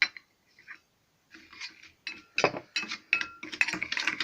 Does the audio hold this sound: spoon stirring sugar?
yes